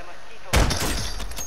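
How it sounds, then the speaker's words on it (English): Gunfire in Call of Duty: Warzone: after a quiet moment, a sudden loud burst of shots erupts and rattles on with a reverberant tail, while a voice talks faintly. "I shot him once"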